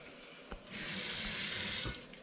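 Water poured into a hot pan for steaming clams: a brief clink, then a steady splashing stream for about a second that stops with a faint knock, close and alone without talk.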